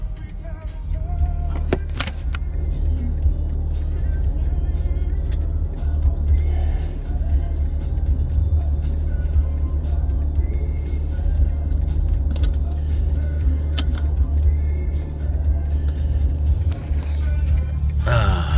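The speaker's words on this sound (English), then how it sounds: "I want to buckle up the seat belt and drive with flashers on" A BMW G80 M3 drives with a steady, loud low engine and road rumble heard from inside the cabin, with occasional small clicks and knocks, over an unbroken drone.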